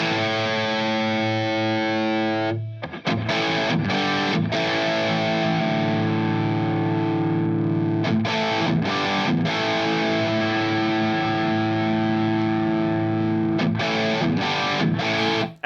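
Distorted electric guitar through a Friedman Golden Pearl overdrive pedal with the high cut turned down, a sustained chord followed by chunky, repeated strummed chords, loud and thick with a softened top end.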